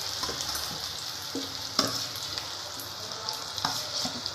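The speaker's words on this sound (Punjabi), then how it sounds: "ਇਸ ਤਰ੍ਹਾਂ ਇਹਨੂੰ ਆਪਾਂ ਹੁਣ ਰਲਾ ਦਾਂਗੇ" Potato filling with green chili being stirred in a sizzling pan, a spoon scraping and clinking in short strokes over a steady close fry, with no talking.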